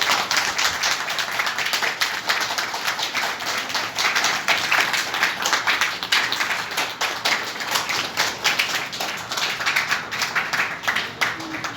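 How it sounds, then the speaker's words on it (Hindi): Schoolgirls at a government girls' senior secondary school clap their hands during a yoga meditation session, a continuous crowd of rapid, uneven claps holding steady throughout at moderate loudness. "तालियां बजाइए।"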